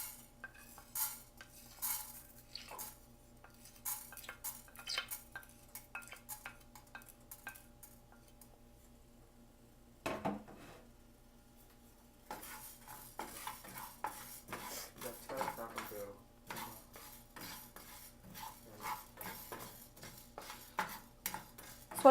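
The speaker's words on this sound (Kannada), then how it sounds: "ಮೊದಲು ಒಂದು ಪ್ಯಾನ್ ಇಟ್ಟು ಪ್ಯಾನ್ ಬಿಸಿಯಾದ ನಂತರ ಅದಕ್ಕೆ ಮೊದಲಿಗೆ ಧನಿಯನ್ನ ಹಾಕಿ ಡ್ರೈ ರೋಸ್ಟ್ ಮಾಡೋಣ" Coriander seeds dry roasting in a hot pan make sparse light rattles and clinks of a utensil against metal, quiet and intermittent, with a louder scrape near the middle and busier stirring toward the end.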